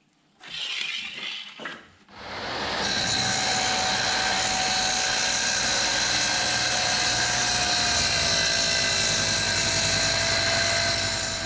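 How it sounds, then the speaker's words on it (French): A power tool cuts a panel for a wooden toolbox: after a couple of seconds of handling noise it spins up into a loud, sustained, high whine that continues steadily up close. "On va déjà découper un pan."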